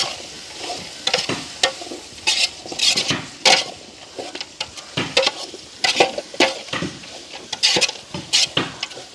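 Onions stirred and sautéed in a pot for a vegetable biryani, a spoon scraping the metal in repeated clanking strokes over a steady close sizzle, with no talking.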